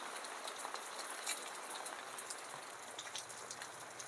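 Light, fine rain falls steadily, a soft continuous patter of drops on surfaces with no voices, even and close throughout.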